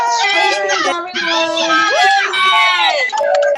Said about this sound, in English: unmute yourselves and just shout and clap and congratulations.